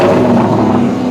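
A 2012 Dodge Challenger's engine idles with a loping, uneven rumble, loud and close for about a second with no talking.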